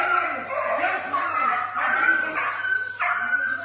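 A dog yips and whimpers in short agitated bursts while being attacked, mixed with people talking and shouting nearby.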